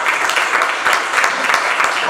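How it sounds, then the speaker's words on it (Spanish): Applause from a church congregation, loud close clapping in a dense, slightly rhythmic wash that pulses gently throughout. "Denle un aplauso, señores."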